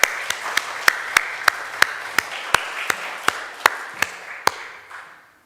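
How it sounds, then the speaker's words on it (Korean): A church congregation claps in steady unison after a choir's hymn, with sharp, evenly spaced claps over a room murmur that fade out after about five seconds. "다시 한번 박수하면 좋겠습니다."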